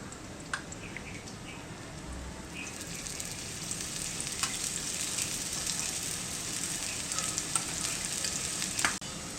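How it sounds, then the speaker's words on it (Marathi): Raw banana thalipeeth frying in oil on a griddle, a steady soft sizzle and crackle with occasional small pops and a clink near the end, fairly quiet and close, with no talking. "थालीपीठ तव्यावरती टाकल्यानंतर मी ह्याला थोडंसं तेल सोडणार आहे"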